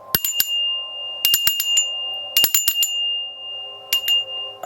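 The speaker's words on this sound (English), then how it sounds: "I'm going to ring the bell 3 times to ward off any ref traces of negative like traces, people and energy." Bell rung three times, each strike a bright ringing onset with several quick repeated taps, followed by a sustained high tone that carries between strikes; close and clear with no talking.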